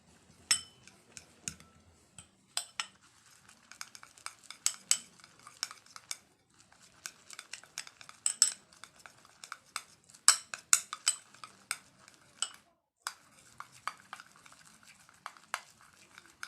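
A utensil stirs and scrapes a Disprin face mask gel mixture in a small bowl, giving quick, irregular clinks and ticks, close and crisp, with near silence between strokes.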